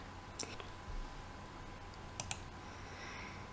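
A computer mouse clicks while someone works in Inventor CAD software: a few isolated, crisp clicks spaced over several seconds, close but faint over a steady background hiss.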